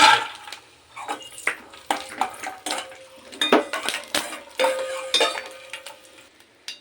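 Raw peanuts stirred in ghee in a pan, a spoon scraping and clinking against the metal in quick irregular strokes over a soft frying sizzle, close and fairly loud, with no talking.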